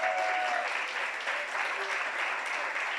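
An audience at a plenary gathering in Guayaquil, Ecuador applauds two actors: even, continuous crowd clapping at moderate level, steady throughout, with a few faint background tones.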